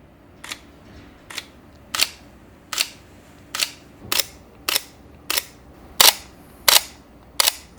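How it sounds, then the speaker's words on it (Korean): A Sony A7S3 mirrorless camera fires its shutter ten times in a steady, evenly spaced series of crisp, close mechanical clicks with quiet pauses between each. "셔터를 눌렀을 때의 소리, 이 느낌이 저는 사진을 찍는 맛은 너무 없었습니다"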